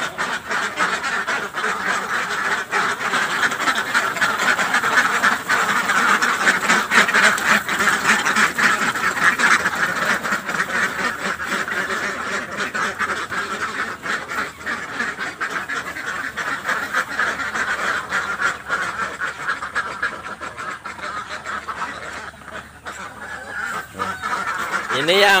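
Dense, loud chorus of laying ducks quacking continuously in a crowded duck pen, overlapping calls filling the whole stretch with a steady background din.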